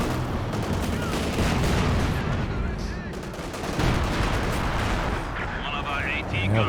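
A Werfer rocket artillery strike in Company of Heroes 2, with a dense barrage of booming impacts and gunfire rumbling continuously under a commentator's voice.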